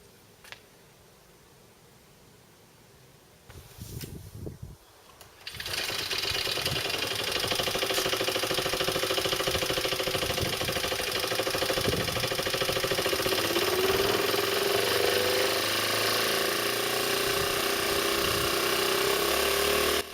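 An electric bike alternator test rig starts with a quiet hum and a few clunks, then runs up toward full throttle in a loud, sustained engine-like drone with a rising whine.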